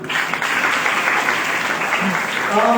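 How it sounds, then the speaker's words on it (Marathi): A crowd applauding the judges at an oratory competition, dense continuous clapping that holds at an even, loud level throughout. "परीक्षकांसाठी एकदा टाळ्या वाजवा ना"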